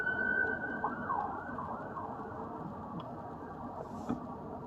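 An ambulance siren on a road on Bimini wails faintly in the distance, strongest at the start, beneath a steady wash of traffic and wind noise.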